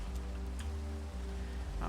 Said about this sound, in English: It's raining, which is probably not ideal.